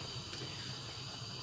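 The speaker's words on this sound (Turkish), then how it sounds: "Ocağın büyük olanını açıyoruz sonuna kadar." A large gas stove burner turned up to full gives a steady, soft hiss that stays even throughout, with no other sounds.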